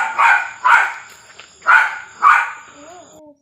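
A dog barks four times in a steady, evenly spaced series, fairly close and loud, with a faint whimpering tone trailing after the last bark.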